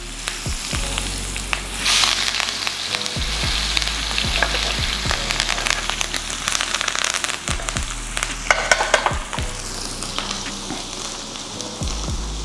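A steak sizzles loudly in a hot pan, a steady dense crackle and spatter with scattered pops and soft thuds as it gets turned.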